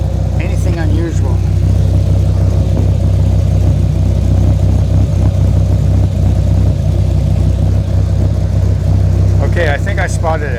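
A Dodge Viper's engine and exhaust run at a loud, steady idle with a deep low rumble throughout, while people talk close by.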